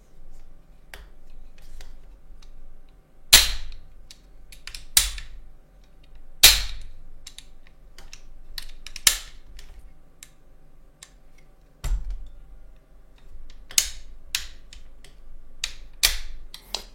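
PPK-20 Well PRO airsoft pistol being test-fired on a workbench after its trigger box was reassembled, sharp snapping clicks spaced irregularly a second or two apart, close and crisp against a quiet room.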